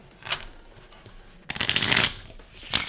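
Playing cards are riffle-shuffled by hand in a beginner card-trick demonstration: a brief soft ruffle early, then a loud, crisp cascading riffle in the middle and a short final flutter, all close up.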